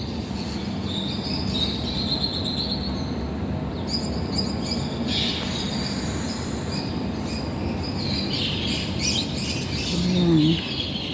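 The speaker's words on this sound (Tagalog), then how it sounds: "ang gandang makinig sa mga huni ng ibon." Scattered bird chirps and tweets over a steady low rumble, the calls faint and intermittent, with a louder burst near the end.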